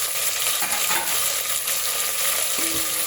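Onion, green chili and tomato fry in hot oil, giving a dense, steady hiss and crackle with a few stirring scrapes, heard close and alone.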